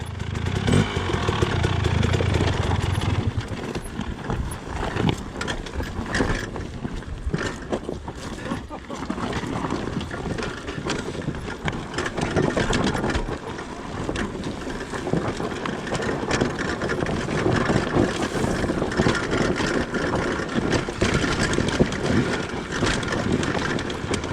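A revving two-stroke KTM 300 dirt bike engine on hill climbs, with a raspy, buzzing exhaust, runs continuously, close and loud, with throttle rising and falling throughout.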